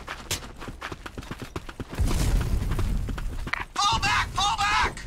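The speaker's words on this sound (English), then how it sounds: "Grenade!" A grenade explodes in a video game battle, a loud booming blast with rumbling debris following a stretch of footsteps and thuds, while voices shout over the scene.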